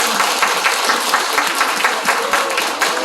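Dense, loud applause from an audience at a live public broadcast taping, honoring supporters asked to stand, with many hands clapping steadily throughout and a few sharper individual claps standing out.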